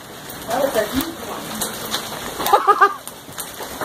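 A hail storm in Indiana, with hailstones pattering and clattering on surfaces in irregular bursts, a louder cluster of impacts near the middle, heard up close over a steady rain-like wash.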